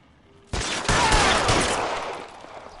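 Gunfire in the video game L.A. Noire erupts suddenly as a dense, sustained volley of loud shots that rolls on and slowly fades.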